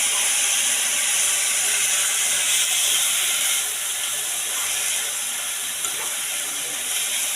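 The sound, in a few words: stirring squid fry in a pan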